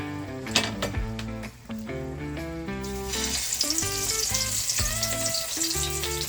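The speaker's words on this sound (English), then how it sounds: "now my oil is hot. I just put a piece of garlic inside, so I'm gonna start putting in my wings now guys" Chicken wings sizzle as they go into hot oil flavoured with a garlic piece, a steady crackling fry that grows brighter partway through and sits under tuneful background music.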